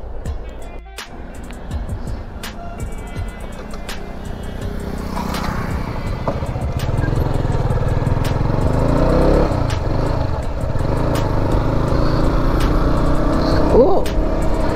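A motorcycle rides along the road, its engine droning steadily and building in loudness as it gets under way, with wind and traffic noise around and someone talking over it.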